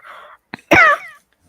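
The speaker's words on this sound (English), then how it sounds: "I'm going to cough." A single close, sharp human cough bursts out after a soft breath and a brief click, rough and short.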